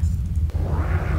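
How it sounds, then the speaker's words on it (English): A steady, heavy low rumble of a storm in the sci-fi game Duskers rolls on without a break, with a faint whooshing swell in its second half. "The storm came back."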